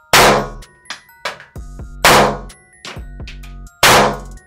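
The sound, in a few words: shot fired from Kurs-S K1911 Compact signal pistol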